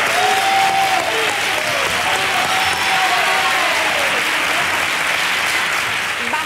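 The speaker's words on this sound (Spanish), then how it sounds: "quiero un aplauso para Macarena" A crowd applauds loudly and continuously for a children's performance, dense clapping filling the whole stretch with a few faint voices underneath.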